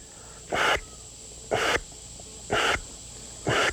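Four short, breathy rushes of air blown through the back of a Primos duck call as a feed call, spaced about a second apart, hissy and close with no talk.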